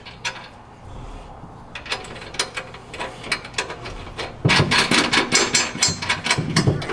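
A hand ratchet clicks in quick repeated bursts while tightening a nut with flat and lock washers onto a nerf step bar bracket, with louder, denser clicking toward the end and no talk.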